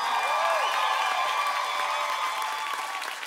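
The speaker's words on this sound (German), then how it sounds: "Kräftigen Applaus, bitteschön." Applause and cheering from a concert crowd at a live show, a dense steady wash of clapping with whistles and shouts over it, fading slightly toward the end.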